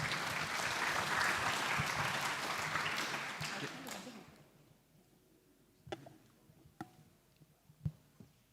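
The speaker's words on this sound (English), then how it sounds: "please give a round of applause for Professor Yogi" Audience applause for Professor Yogi at a conference session, a dense burst of clapping that fades out after about four seconds, leaving a quiet room with a few scattered sharp knocks.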